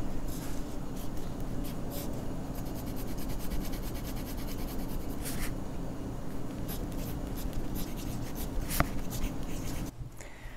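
Pilot Vanishing Point fountain pen with a medium nib writing on paper, a steady soft scratching and rubbing of nib across the page, close and continuous with faint strokes and brief pauses, no talking.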